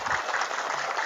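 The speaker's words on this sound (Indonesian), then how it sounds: "Selanjutnya mau tepuk tangan dulu silakan." Dense crowd applause from an audience at a public Islamic religious lecture, a short steady burst of many clapping hands.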